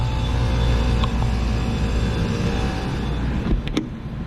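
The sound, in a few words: AAON HVAC rooftop unit fan motor running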